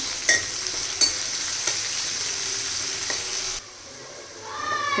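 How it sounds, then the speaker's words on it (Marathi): Chopped onion with cumin seeds sizzles steadily in a hot pan as a spatula scrapes and stirs with a few distinct knocks; the frying drops away abruptly near the end, leaving only quieter sounds. "कट केलेला कांदा आपल्याला छान असा परतून घ्यायचा आहे"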